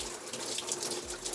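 Shower water runs steadily from a handheld shower head onto a rusty bathroom shelf being rinsed, a continuous close hiss and splash with no break and no voices.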